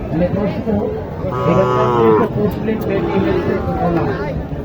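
Cattle moo loudly nearby at a cattle market with Sahiwal bulls and calves, one long drawn-out low, amid the murmur of people talking in the background.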